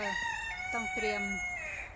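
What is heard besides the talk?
chickens crowing outdoors at a Thai temple in Belgium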